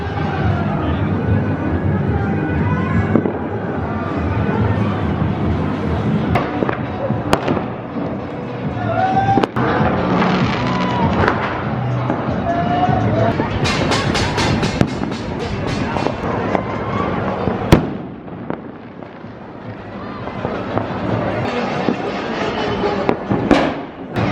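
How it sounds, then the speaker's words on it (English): Fireworks and firecrackers burst all around a neighbourhood in India during the pandemic lockdown, a dense continuous crackle with sharp louder pops, heard with distant voices and general commotion. "Fireworks everywhere. Sounds like mayhem."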